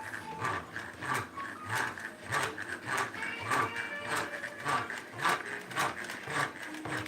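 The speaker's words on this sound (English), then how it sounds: "I do like this little whisk." A small vintage 1950s hand whisk beats pumpkin sourdough waffle batter in a bowl, a quick rhythmic ticking and rattling of wire against the bowl that repeats steadily at close range.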